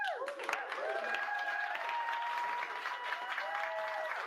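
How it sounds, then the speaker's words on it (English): Sustained audience applause fills a product launch event for an AI model, a steady dense wash of clapping with voices and cheers faintly mixed in. "They absolutely have a applause button or applause sign on there."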